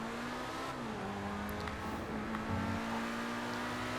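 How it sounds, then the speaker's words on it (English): Pegassi Reaper supercar in GTA 5 Online giving a steady, droning exhaust note at near-constant revs, with a slight rise and small shifts in pitch, close and continuous, no talking. "I guess the exhaust isn't too bad, the exhaust note"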